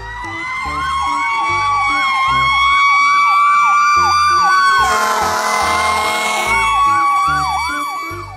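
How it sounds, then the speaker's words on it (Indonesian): A fire truck siren wails loudly and continuously in a rapid, repeating rise-and-fall pattern, with a brief burst of broadband blare in the middle. "Mobil truk pemadam kebakaran."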